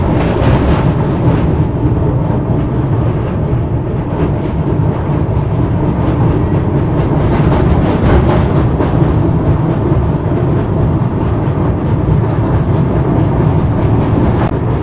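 Amaravati Express crossing the Krishna river bridge, a loud, continuous rumble and rhythmic wheel clatter that holds steady throughout with no voices.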